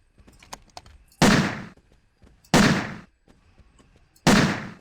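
Three sharp, loud revolver shots ring out in the video game Carnivores 2, spaced more than a second apart, each with a short decaying tail over faint background noise.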